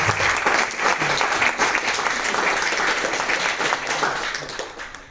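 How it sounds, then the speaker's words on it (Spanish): An audience at a Spanish medieval music concert applauds in a thick, sustained wave of clapping that stays loud for about five seconds before starting to fade. "Fuertes aplausos a todos."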